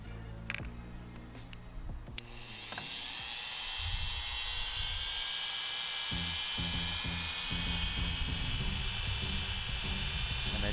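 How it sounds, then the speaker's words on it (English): A rotary tool whines at high speed while slowly grinding an airsoft hop-up nub, a steady close buzz after a few scattered handling clicks at the start. "And I just start slowly grinding, applying even pressure on the nub."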